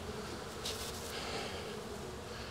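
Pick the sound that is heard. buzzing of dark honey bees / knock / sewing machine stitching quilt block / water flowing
buzzing of dark honey bees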